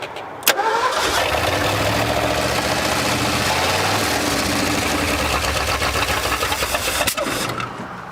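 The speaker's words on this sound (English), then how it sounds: "just go ahead and turn it over and see what she does" An abandoned 1974 Ford Bronco, revived after 35 years, cranks briefly and catches, then its engine runs steadily at a high, even drone for several seconds before a sharp click near the end.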